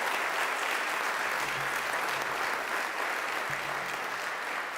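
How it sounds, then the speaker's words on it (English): A crowd at a Catholic high school commencement applauds the graduates' scholarship total, an even, sustained roll of many hands clapping from a distance, with a faint voice underneath. "A round of applause for that"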